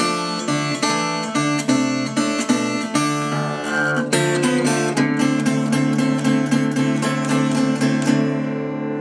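A Delta blues guitar intro on clean electric guitar, loose and fluid, with bright double-stop licks and ringing bends over a steady pulse.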